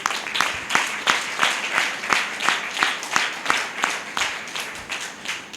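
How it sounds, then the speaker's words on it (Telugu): Congregation clapping at a church sermon, a loose group keeping a fairly steady rhythm of sharp claps that rise and fall evenly throughout, moderately close, with no talking over it. "చప్పట్లు కొట్టండి"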